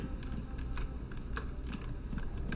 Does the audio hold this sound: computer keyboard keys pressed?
yes